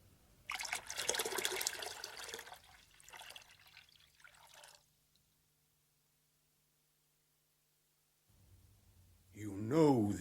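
Water is poured in a steady splashing stream that fades away, followed by a long silence and then a voice speaking.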